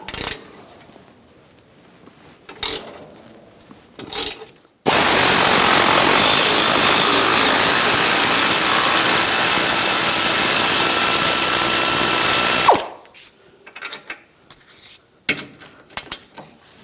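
A loud powered tool, likely an impact wrench with a 15mm socket, runs continuously for about eight seconds while removing bumper bolts on a 2013-2016 Dodge Dart, framed by scattered clanks and handling noises before and after.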